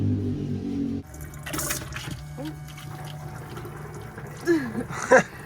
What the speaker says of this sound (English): Grey water's getting filled up.